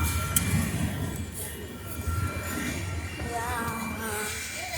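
A train starting up near a railroad crossing, low rumbling engine and rolling noise with a few metallic clanks and a rising whine-like tone late on, faint muffled voices in the background.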